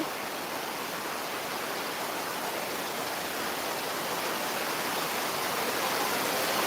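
Steady rain falls at Gabtoli cattle market, a dense, even hiss that stays constant throughout with no voices heard.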